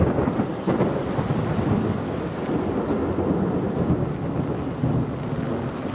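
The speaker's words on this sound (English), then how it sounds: "You just heard the thunder" Thunder rumbling through a heavy thunderstorm with rain, a loud continuous low roar blended with dense rainfall and some wind buffeting on the microphone, no talking.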